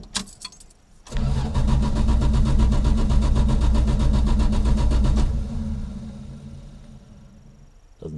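A 1974 Valiant engine cranks and catches at about one second, then runs loud and steady before settling to a quieter idle, with no talking.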